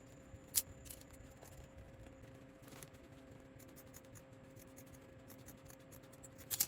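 Chalk or a marker scratches along fabric around a garment collar, marking a cutting line with soft, faint, close strokes and a few sharper taps, with no talking.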